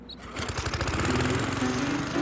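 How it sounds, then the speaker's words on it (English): A lawn mower engine runs steadily as a radio comedy sound effect, a loud continuous buzzing drone with a rapid pulsing rhythm that holds close and even throughout, with no voices over it. "I think I'm going to start mowing the lawn."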